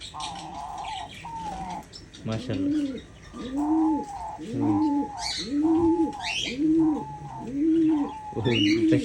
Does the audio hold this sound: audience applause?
no